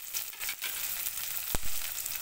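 Onions with green chillies sizzle in a hot pan, a steady bright hiss of frying broken by a few sharp stirring scrapes, close and alone without any speech.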